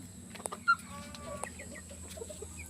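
Red junglefowl cluck softly and intermittently, with a few short calls over a quiet outdoor background.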